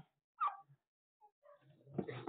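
Puppies near a parked vehicle give a few faint yelps and whimpers, then scuffling movement and soft noise, quiet and close, no talk.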